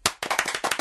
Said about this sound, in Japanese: それでは皆さん拍手してみましょう